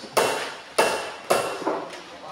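A hammer strikes a metal stamp four times in an even rhythm, with the last blow lighter. Each hit is a sharp, ringing metallic clank that fades quickly, close and clear with nothing else audible.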